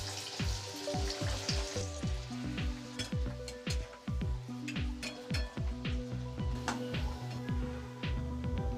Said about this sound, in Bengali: কড়াইতে তেল গরম করতে দিয়ে দিয়েছি, তেলটাও গরম হয়ে এসছে। এবার লুচিগুলো দিয়ে দিব।